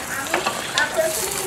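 Ginger and garlic sizzle in a pan with beef, a bright crackling fry broken by short scraping stirs and a few clicks, close and fairly loud with no speech.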